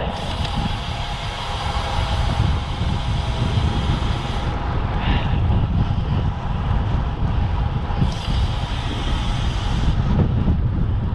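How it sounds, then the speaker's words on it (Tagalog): Strong headwind rushing over the microphone while riding a road bike, a steady loud roar with gusty swells throughout and no talking. "Lakas ng hangin."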